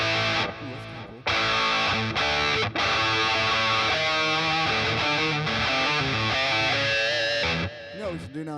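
Electric guitar played through a Bias FX Turbo Distortion effect, a dense, saturated distorted tone with sustained chords and melodic runs, loud and continuous with a couple of brief gaps, no voices.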